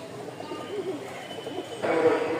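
Pigeons of the Rajshahi Giribaz breed, kept for sale at a market stall in Mirpur-1, Dhaka, coo softly in a low, muffled murmur that swells slightly louder near the end.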